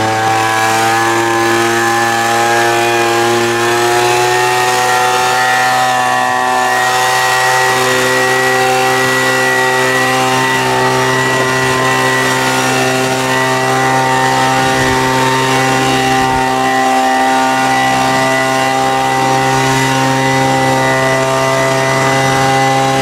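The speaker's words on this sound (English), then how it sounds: "fire up the leaf blower" A leaf blower runs continuously at full power, a loud steady droning whine with no pauses, close by.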